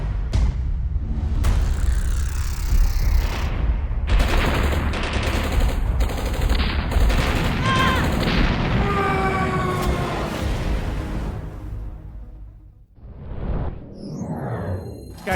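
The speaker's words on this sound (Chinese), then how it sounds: "机枪扫射" Machine gun fire played as a sound effect during a skit on a Chinese TV variety show, loud sustained bursts of rapid shots lasting most of the clip before dropping away near the end.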